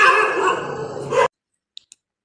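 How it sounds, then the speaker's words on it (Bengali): Dogs fighting in a street in Adabor, Dhaka: a loud burst of snarling and barking lasting about a second, then silence broken by two faint clicks. "আমরা এখন লাইভে আছি কুকুরে মারামারিতে"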